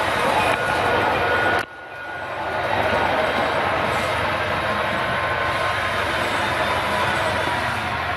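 A passenger train on the Granite Gorge and Northern line rumbles past at moderate distance, a steady broad roar that briefly dips and then builds back and holds, with no talk over it.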